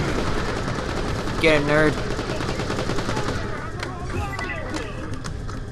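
Rapid gunfire rattles from the Borderlands: The Pre-Sequel shooter video game, dense automatic bursts filling the scene under a player's excited talking.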